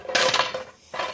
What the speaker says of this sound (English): We are going to move the 2 very loud hoops out of the way.